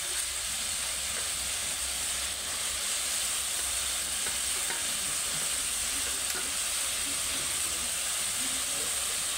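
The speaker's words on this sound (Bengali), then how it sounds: "দিয়ে ভালো করে সমস্ত সবজি আর চিংড়ি মাছ কষে নেব" Vegetables and shrimp, with potato and banana stem, are sautéed with spices in a pan for a spicy curry, giving a steady, close sizzling hiss that runs unbroken throughout with no talking.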